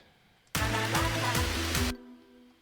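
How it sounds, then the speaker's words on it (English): A hardstyle melody break made in FL Studio 20: a dense, bright burst of synth chords with a pounding rhythmic low end plays for about a second and a half, then stops sharply, leaving a faint tail. "the melody break with the chords"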